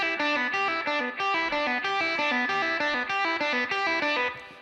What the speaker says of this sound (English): So this one will be focusing only on pull offs, but you're going to be jumping strings